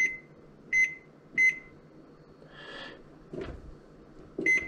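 A kitchen oven's timer gives sharp electronic beeps, three evenly spaced single chirps, then a softer whir and a thud before one more beep as the cooking time is set.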